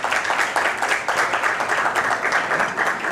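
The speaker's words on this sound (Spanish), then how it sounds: "Así que vamos a darle un aplauso." Loud, dense applause from an audience at an archive presentation event in a hall, continuous clapping from many hands, close and full throughout with no speech.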